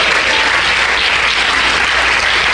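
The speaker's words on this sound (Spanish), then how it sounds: "Dele un aplauso al Señor" A church congregation applauds loudly and steadily during a Holy Week service, a dense wash of clapping with no pauses and no voices.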